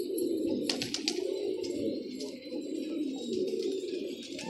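Pigeons coo continuously in a low, rolling chorus, close and steady, with a few faint chirps and a brief flutter of wings mixed in.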